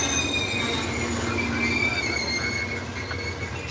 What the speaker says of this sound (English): As the train performs normal running brake test.